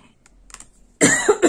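A few sharp, harsh coughs close up, coming in quick succession after a quiet stretch with faint tapping.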